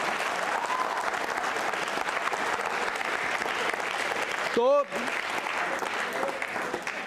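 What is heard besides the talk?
quiz show audience applauding themselves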